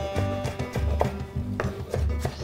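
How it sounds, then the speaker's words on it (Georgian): A knife chops onion finely on a cutting board, with repeated close, fairly steady strokes and a few louder thuds; no talking. "დავჭრათ ხახვი წრილად"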